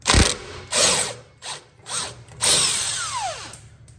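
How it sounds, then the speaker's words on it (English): An impact gun hammers at a 13 mm bolt on a Porsche Cayenne Turbo 958 in several loud, close rattling bursts with brief pauses between them, the last burst trailing off with a falling whine. "Let's see what the impact gun does on it."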